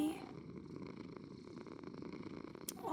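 Mimi the cat purring up close, a low, steady rumbling purr that continues throughout, with faint voices in the background.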